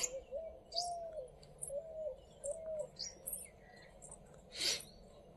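Soft, distant cooing calls of doves repeat in short phrases, mixed with scattered bird chirps against a quiet village outdoor background.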